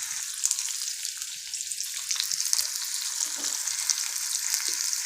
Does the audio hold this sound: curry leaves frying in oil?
yes